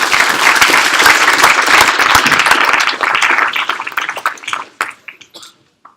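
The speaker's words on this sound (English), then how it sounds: "Let's give him a round of applause." A conference audience breaks into sustained applause at a fintech town hall, dense clapping that holds steady for several seconds before thinning into scattered claps and fading out.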